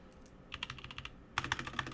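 Close, clackety typing on a GK61 hot-swappable mechanical keyboard: two rapid bursts of crisp keystrokes, the second louder, heard alone with no talk.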